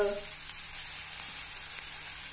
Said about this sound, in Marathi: आपण पुढचे गाजराचे कबाब शॅलो फ्राय करायला घालूया.